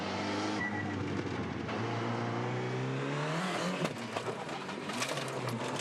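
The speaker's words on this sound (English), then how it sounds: "You hear him go back a gear at the midpoint of the corner." A Formula 4 race car at Sydney Motorsport Park holds a loud, steady, high engine whine, then drops a gear partway through with a brief dip before the pitch climbs again close by.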